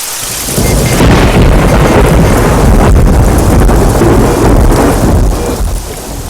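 Heavy rain pours down with rolling thunder in a stormy night scene, loud, dense and constant, with wind buffeting the microphone and no voices.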